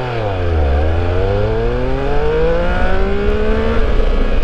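A 2021 Triumph Speed Triple 1200 RS accelerates hard from a standstill, its engine note climbing steeply, dipping briefly, then rising again in a loud, continuous roar with wind noise, heard from on board.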